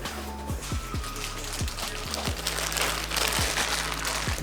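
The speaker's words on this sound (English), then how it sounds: "Here are the Moly Power Pack pistons, and I'll unwrap them right now." Plastic packaging around a set of Moly Power Pack pistons for a Focus ST engine build crinkles and crackles steadily as it is torn open, close up, with intermittent low thumps beneath the rustling.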